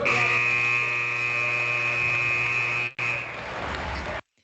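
A loud, harsh electronic buzzer sounds as the final buzzer closing a podcast episode, a steady tone lasting about three seconds, cut briefly, then resuming before stopping abruptly.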